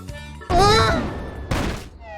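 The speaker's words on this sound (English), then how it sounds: "All you have to do is get in the cannon and we'll shoot you out of it." A cannon fires in a 1990s pirate video game, giving two loud, noisy blasts about a second apart, set among tonal game sounds.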